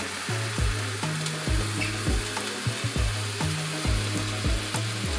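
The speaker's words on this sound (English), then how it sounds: "Then we add vegetable broth." Vegetable broth poured over cooking tomatoes in a pot, a steady loud sizzle and bubbling with a repeating rhythmic stirring pulse throughout.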